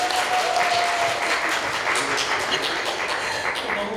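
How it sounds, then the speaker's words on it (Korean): Dense, steady applause from an audience at a small Korean film festival screening talk, many hands clapping evenly through the whole stretch with no voices over it. "박수 한번 부탁드립니다"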